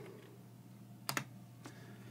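A few quick keyboard keystrokes on a computer, two close clicks followed by one softer tap after a pause, faint against a low steady hum.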